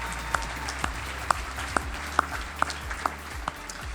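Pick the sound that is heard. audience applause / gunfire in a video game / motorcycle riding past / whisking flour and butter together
audience applause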